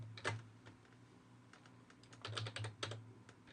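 Soft keystrokes on a computer keyboard while coding, irregular clicks in small bursts, with a faint steady hum underneath and no speech.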